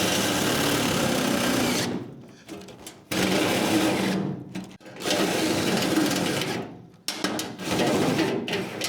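A battery drill fitted with a step bit bores through rusty body metal on a 1965 Thunderbird Convertible, loud, whining bursts of drilling broken by short pauses, three main runs in succession.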